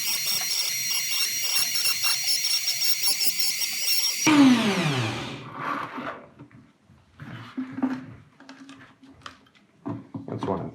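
A high-pitched rotary tool whines steadily while cutting a plastic bottle, then spins down and stops, leaving scattered crackling and tapping of handled plastic.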